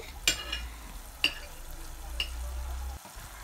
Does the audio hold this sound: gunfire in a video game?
no